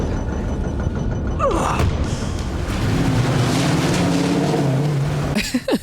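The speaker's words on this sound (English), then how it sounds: "Calmly enters his car and frantically drives away." A car drives away in a dramatic TV series scene, engine noise and whooshing motion under a dense, loud soundtrack, with a rising tonal sweep and a sudden cut near the end.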